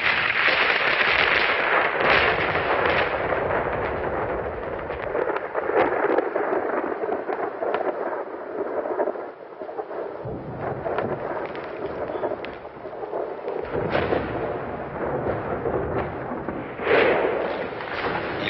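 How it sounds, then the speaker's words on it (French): Thunder from a thunderstorm rolls and rumbles for a long stretch, booming in repeated heavy surges that fade and return, distant yet powerful, with no talking. "une lueur à peine perceptible qui va donner un coup de tonnerre assez important"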